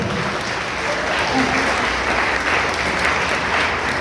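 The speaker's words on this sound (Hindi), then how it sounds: "मैं चाहूंगा ऋषि सर के लिए एक बार जोरदार तालियां होनी चाहिए।" Loud, sustained applause from a gathered audience at a coaching centre event, dense and even clapping throughout with murmured voices mixed in.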